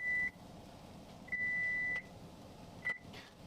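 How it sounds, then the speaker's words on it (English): A kitchen timer for baking bread beeps: a short electronic tone, then a longer sustained beep, then another brief one, clear and steady against a quiet room hum with no talking. "That's our timer for our bread telling us it's time to knock it down in temp."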